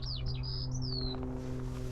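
Bird song from the grass beside an outdoor route: a clear, close whistled phrase of sliding notes over a steady low engine-like hum, fading after about a second.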